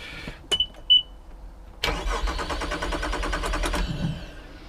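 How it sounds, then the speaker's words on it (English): A Honda 200hp outboard engine being cranked during winterizing: a couple of short beeps, then the starter turns the engine over in a rapid rhythmic churn for about two seconds before winding down, close and alone. "Now we're going to go crank the engine over a little bit just to disperse and spread the oil throughout the cylinder."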